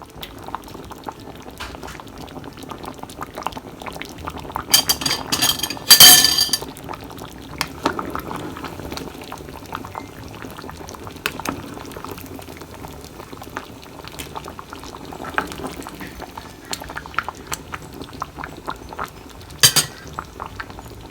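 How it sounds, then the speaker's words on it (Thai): Thai chicken yellow curry with coconut milk bubbles steadily in a pot, a soft continuous simmer broken by occasional clinks of a utensil against the pot. "พอไก่สุกได้ที่กะทิเดือดดีแล้วนะคะ"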